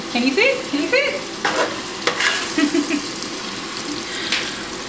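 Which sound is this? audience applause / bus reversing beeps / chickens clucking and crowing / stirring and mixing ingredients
stirring and mixing ingredients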